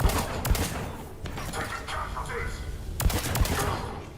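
Pistol gunfire in the video game Mass Effect: a few sharp shots in two short bursts over a busy game soundscape, loud and close.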